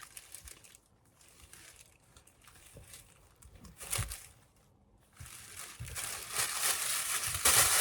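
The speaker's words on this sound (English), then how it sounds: "It's got tissue paper inside, hence the sound." Tissue paper crinkling as wrapped fabric is unwrapped, close and crisp rustling that comes in bursts and grows louder and denser toward the end, with no talking.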